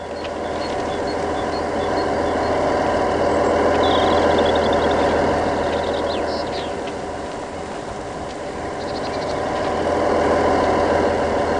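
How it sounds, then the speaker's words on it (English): A video game locomotive engine idles continuously with a steady low drone and faint mechanical whine, swelling slightly and easing off. "It sounds like there's a running locomotive."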